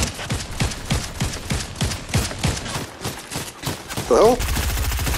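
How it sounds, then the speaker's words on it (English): Bursts of video game gunfire rattle in an uneven rhythm, with a loud closer hit near the end, while a player swears over the shooting. "I hear another person shooting on me over here"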